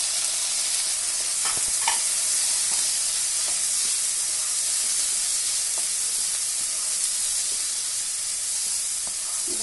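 Green peas frying with onion in a pan give off a steady, loud sizzle and hiss that runs unbroken throughout, with a few faint stirring clicks over it.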